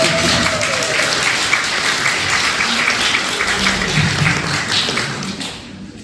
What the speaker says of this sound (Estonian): Selle peale võiks isegi aplausi teha.